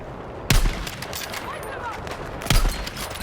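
Gunfire in a video game comes as two sharp loud bursts about two seconds apart, with speech present in the clip.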